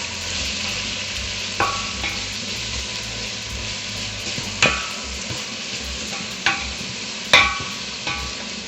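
Plenty of chopped onions sizzling steadily in hot oil in a cooking pot for Kenyan pilau, with a loud, constant frying hiss close by and a few sharp clinks of a spoon stirring against the pot.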